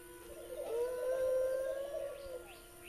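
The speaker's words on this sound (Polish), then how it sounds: "Tam jakieś wilki chodzą." Wolves howling in the forest of The Witcher 1 game: one long, sustained, wavering howl rising and holding for about two seconds over a quiet ambient bed, with faint bird-like chirps in the distance.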